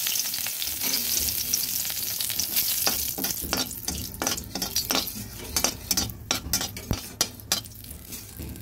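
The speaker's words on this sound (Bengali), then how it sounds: "দিয়ে দিচ্ছি তেজপাতা আর শুকনো লঙ্কা" Bay leaves and dried red chillies crackle in hot oil in a kadhai, a dense sizzle overlaid with brisk metallic clinks and scrapes of a spoon stirring, close and continuous with no talk.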